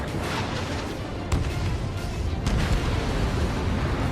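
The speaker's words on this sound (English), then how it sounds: "Missile launched." Missile launch from a jet in Ace Combat 7, a dense rushing roar over steady engine noise with a couple of sharp bursts, continuous and loud throughout.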